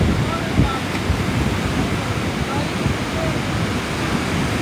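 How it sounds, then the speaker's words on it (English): Waves wash onto a beach in the Seychelles in a steady, broad hiss of surf with soft rolling swells, close by and unbroken, with a little wind buffeting the microphone. "I just love the beach."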